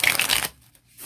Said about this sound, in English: you should be able to shuffle in any direction, riffle shuffle, and probably bridge shuffle with no problem